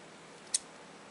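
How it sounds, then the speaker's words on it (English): A single crisp snip of scissors cutting yarn, brief and sharp against a quiet background, with no talking. "Scissors."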